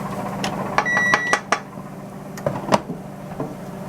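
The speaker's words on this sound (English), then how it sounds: "The 10-minute timer beeped." Kitchen cooking timer beeping during chicken meal prep, a few short, fairly clear electronic beeps in a quick cluster followed by scattered clatter and pan noises, with no voices.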